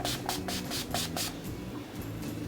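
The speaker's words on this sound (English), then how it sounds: "And I will just spray that on," Urban Decay De-Slick oil-control setting spray misted onto the face, several quick hissing pumps in a row, close and soft, followed by a faint lingering hiss.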